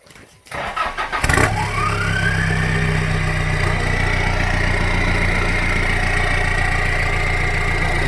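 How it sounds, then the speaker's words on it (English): A car engine fitted with a new turbo and intercooler cranks briefly, then catches and settles into a steady, loud idle with a rising turbo whine. "here's the first crank on the new turbo and intercooler"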